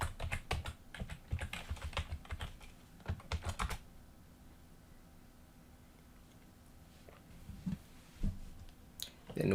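Rapid keystrokes on a computer keyboard as a password is entered, close and quiet, in quick bursts that stop partway, followed by a few scattered clicks.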